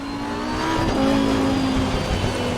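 A Lamborghini Huracan EVO2 engine in the racing game Assetto Corsa Competizione, a sustained loud rev with a wavering pitch as it accelerates and holds speed, under a layer of road and wind noise.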